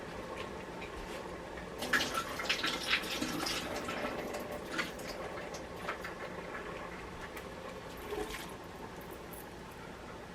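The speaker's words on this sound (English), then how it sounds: "I'm gonna drain the corn." Liquid from canned corn drains out, heard as a soft, irregular splashing and trickling with a few louder spurts early on, then fading to a quiet dribble.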